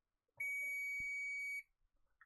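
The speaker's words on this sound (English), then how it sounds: "this one went beep" A single sustained electronic beep from a CNC control board, a clear high tone lasting about a second with a faint knock just before and quiet afterward.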